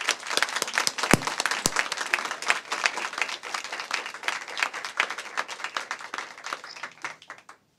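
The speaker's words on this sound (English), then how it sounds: "Let's give them a round of applause." A modest crowd at a ribbon cutting applauds with fairly faint, scattered claps that thin out and stop near the end.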